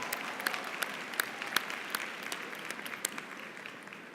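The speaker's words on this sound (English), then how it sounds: "Let's give him a round of applause as well" An audience at a college commencement applauds for a piano accompanist, a steady clapping of many hands with sharp individual claps standing out, moderately distant and fading slightly toward the end.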